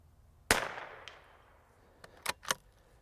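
A Savage B22 rifle fires a single sharp, close report at a grenade target outdoors, followed by a trailing decay and a few quieter clicks and knocks.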